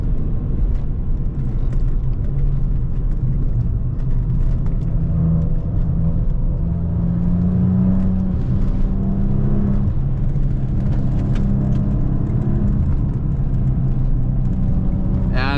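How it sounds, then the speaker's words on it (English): A 2016 Maserati Ghibli S Q4 sports sedan drives along, its exhaust giving a steady, loud, deep rumble with gentle rises and falls in engine pitch, heard from inside the car with no talking. "And back to the sound of the exhaust again."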